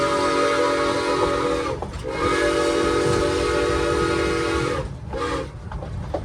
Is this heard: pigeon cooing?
no